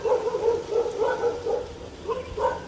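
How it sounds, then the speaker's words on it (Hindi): A dog barks repeatedly at a truck stop in Himachal Pradesh during a banana unload, a string of quick, moderately loud barks and yips at mid distance in a steady rhythm. "तो यहाँ पे कुत्ता भी है बहुत खतरनाक।"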